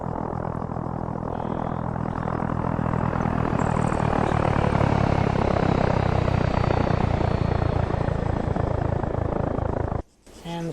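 Loud, steady propeller plane engine drone from an aircraft flying overhead in the Arma 3 military game, holding constant for about ten seconds before cutting off abruptly near the end.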